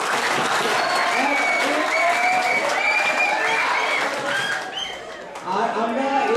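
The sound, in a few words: audience applause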